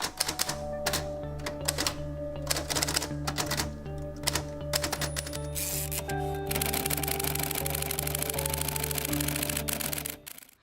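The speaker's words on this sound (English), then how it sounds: "I had a typewriter." Typewriter keys clatter in irregular bursts over a steady hum of background music, the strikes close and fairly loud.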